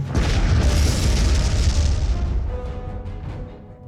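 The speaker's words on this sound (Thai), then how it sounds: "เทคนิคการระเบิดพื้นดิน" A loud, deep explosion roars with a long rumbling boom that slowly fades over several seconds, with no voices.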